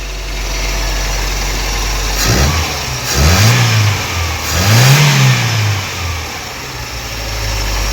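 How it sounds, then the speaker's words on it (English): A carbureted Toyota engine with a new carburetor and no cone air filter idles steadily. It gives two or three quick throttle blips that rise and fall, then drops back to a close, steady rumbling idle. "So let's hear the sound without the cone."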